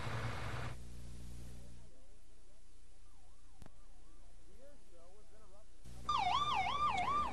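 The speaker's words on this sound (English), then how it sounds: "The air show was interrupted a couple times this afternoon by the sounds of sirens" Wailing emergency vehicle sirens at an air show sweep up and down in rising and falling cycles, faint and distant in the middle, then loud and close near the end.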